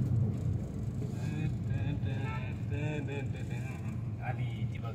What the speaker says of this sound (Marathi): बघा नवदेवाची गाडी आली.